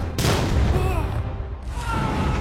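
A landmine blast in an action film, a loud, close boom with a long rumbling roar that briefly dips and then swells again with a second burst of noise.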